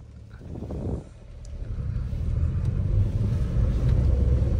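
A modified Maruti Wagon R Stingray with a five-speed gearbox drives along, its engine and road rumble a steady low drone that dips briefly near the start, then grows a little louder and fuller as it pulls away.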